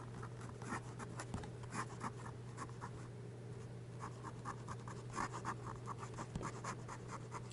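Bulow X530 fountain pen nib scratching quickly across paper in fast, rhythmic bursts of strokes, close and fairly quiet over a steady low hum.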